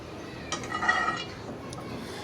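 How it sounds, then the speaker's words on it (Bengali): Washed plates and bowls being stacked and put away in a home kitchen, a few light clinks and knocks clustered near the middle, moderately close and fairly quiet over a low room background. "প্লেট বাটিগুলো রাতের ধোয়া ছিল, ওগুলো গুছিয়ে নিলাম"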